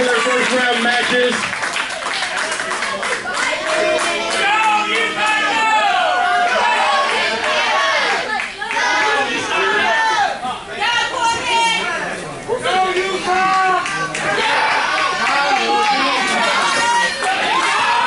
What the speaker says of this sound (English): give a round of applause to the competitors in tonight's tournament